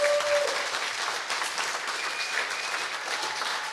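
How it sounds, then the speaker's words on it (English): Studio audience applause at a live show episode, steady dense clapping filling the room for a few seconds, fairly loud and continuous, with no talk over it. "Give them a round of applause."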